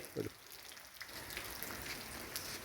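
Rain falls in a soft, constant patter and hiss, faint and continuous, with a brief voice at the very start.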